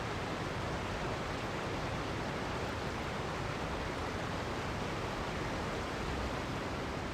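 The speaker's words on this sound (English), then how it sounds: "And the waterfalls are getting louder." A waterfall in a video game, a loud, even, broadband roar of rushing water that holds steady from start to finish with nothing else audible.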